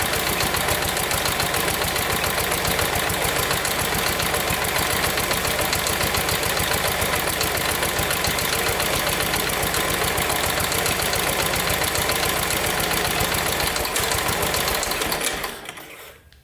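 A rare 1970s Pacesetter three-wheeler's small engine idles loudly with a fast, steady mechanical chatter, running on without pause until it is shut off and cuts out abruptly near the end.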